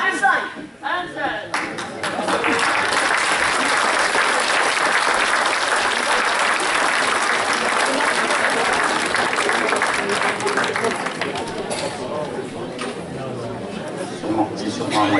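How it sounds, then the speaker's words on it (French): An audience applauds performers, a steady dense wash of clapping that swells after a brief start and holds for most of the stretch, with some chatter and voices mixed in before it thins near the end. "on a applaudi à l'instant nos copines qui sont Anne-Marie, Christine, Laurence et Maryse"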